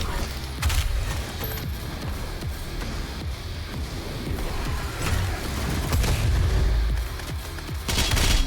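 Weapon fire and grenade blasts in the Doom Eternal video game, with repeated gunshots and booming explosions in dense, loud, continuous bursts, plus a few louder blasts near the end.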